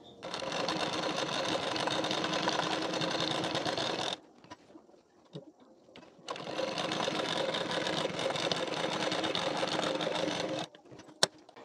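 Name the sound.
sewing machine stitching a blouse belt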